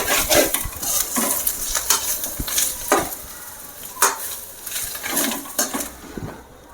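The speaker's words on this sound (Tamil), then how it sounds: "புளி இந்த நல்லா உடச்சி விடுங்க புளியை, அப்போ தான் புளியும் நல்லா அதில் வதங்கும்." Tamarind being broken up and sautéed in a pan, heard as repeated metal spatula scrapes and clanks against the pan over a light sizzle, close and fairly loud, with no voice.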